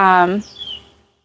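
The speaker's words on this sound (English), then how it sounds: "can you hear that pretty bird? Oh, such a pretty sound. Happy bird." A short bird chirp, a bright high call lasting under a second, close and clear against a quiet background, with a voice just before it.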